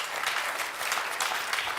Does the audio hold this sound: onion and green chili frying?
no